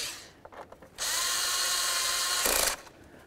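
Power tool tightening a bolt on a 2003-2007 Chevy Silverado throttle body: a few light clicks, then a steady whirring run of nearly two seconds ending in a brief louder burst, close up with no talking.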